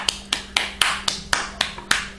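A child with sticky hands claps at a steady, even pace, about eight sharp, close hand slaps over a couple of seconds, with nobody talking.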